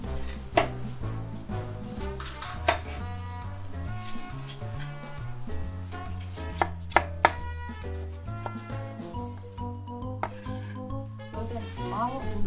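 A knife chops green bell pepper on a cutting board in a home kitchen, with a series of sharp, irregular taps, some louder than others, under steady background music.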